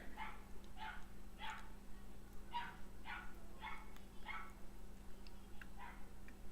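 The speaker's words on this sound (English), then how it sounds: "everybody else is barking" Several dogs bark in a series of evenly spaced, moderately distant woofs, with a low electrical hum underneath.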